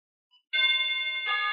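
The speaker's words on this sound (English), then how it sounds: "let me press the wireless doorbell one more time and you will see the frequency" A wireless doorbell pressed once, giving a short click and then a steady electronic chime that rings out clearly for about a second in a quiet room.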